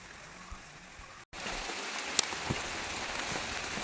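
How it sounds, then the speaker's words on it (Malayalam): A light drizzle falls on a home kitchen garden as a soft, steady hiss of rain with a few scattered drop taps, after a short quieter stretch and a brief cut. "ഇന്ന് നല്ല മഴയൊക്കെ പെയ്യുന്നുണ്ട്, വലിയ മഴയാണ്, ചാറ്റൽ മഴയാണ്"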